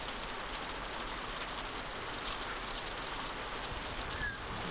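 Rain falls at night in The Walking Dead game, a steady, even hiss of broadband patter that holds at a constant level throughout, with no voices.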